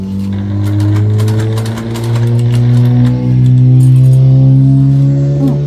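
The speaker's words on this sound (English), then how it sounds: "a super loud truck or something just drove by" A super loud truck drives past close by, a heavy rumbling engine drone with steady low harmonics swelling and easing over several seconds, no voices.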